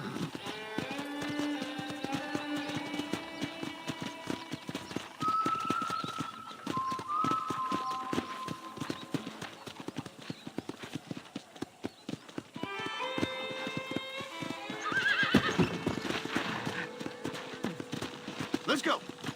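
Horse hooves clip-clop in steady rhythm while riding around a ranch in Red Dead Redemption, close and continuous beneath music and speaking voices.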